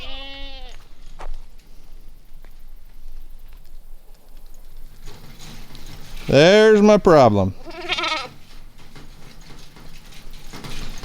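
Goats on a farm bleat near a fence, with one loud, wavering bleat in the middle and shorter bleats before and after, while a person talks and some rain-like patter runs underneath.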